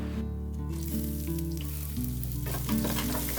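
Chopped onion sautéing with crushed ginger and garlic in hot oil, a steady soft sizzle under a constant low hum of background music, faint and close with no talking.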